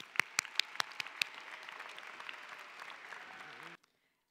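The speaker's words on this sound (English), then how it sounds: "Please help me give her a round of applause." An audience applauds at the 2018 Merritt College graduation ceremony, starting with a few crisp, prominent claps that merge into steady moderate applause before it cuts off abruptly.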